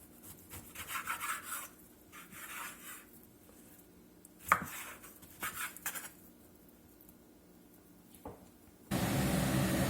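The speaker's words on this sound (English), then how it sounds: "we just want to cut this up into some chunks, about 1 inch" A knife cuts beef into one-inch chunks for Tuscan peposo, giving a few soft, scattered thuds and scraping strokes on a cutting board, fairly quiet and close, ending in a sudden hiss of noise.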